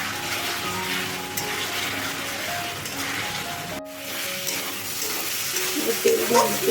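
Masala frying and being stirred in oil in a home kitchen: a steady, fairly loud broadband sizzle with scraping stir sounds running throughout, briefly dipping near the middle and growing busier toward the end.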